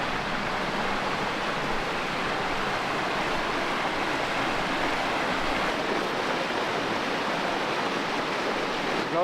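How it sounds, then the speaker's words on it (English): Steady broadband rush of a creek flowing beside a creekside camp spot in the New Hampshire backcountry in autumn, continuous and fairly close with no voices. "right down from all of this is a creek"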